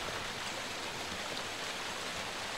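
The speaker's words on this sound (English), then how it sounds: "The water's running from the upper water passage." Running water flows from an upper water passage in the PS1 game Resident Evil, a steady close rushing hiss with no other sounds.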